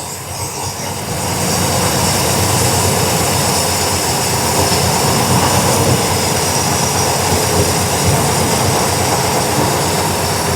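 A 1973 Camaro engine with Fitech fuel injection and no catalytic converters idles loudly and steadily, a dense, constant roar that rises slightly after the first second and then holds without pause.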